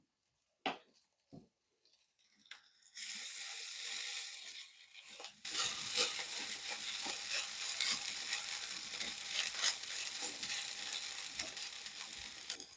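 Meat patties sizzle and crackle in a hot frying pan, Finnish Lindström-style beef patties with beetroot; a few light clinks come first, then a steady close sizzle with occasional spatter and stirring noises.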